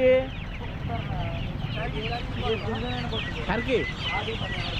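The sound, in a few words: country chickens clucking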